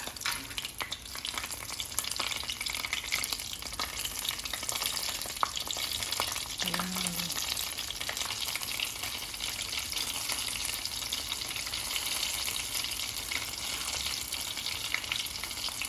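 Wonton and vegetables frying in a pan, a steady broadband sizzle that stays loud and even throughout, with occasional faint stirring, no voices.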